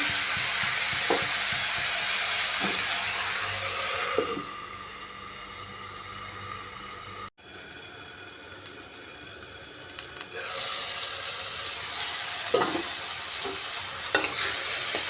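Tomato with rohu fish head sautés in a covered pan, giving a steady muffled sizzle and hiss broken by occasional clinks, with a sudden brief cut midway and a louder, brighter stretch of frying later on.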